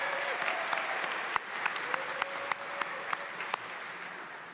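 Applause from the audience at an opening convocation ceremony, a steady wash of clapping from a large hall with a few crisp individual claps popping out above the rest, moderately quiet throughout.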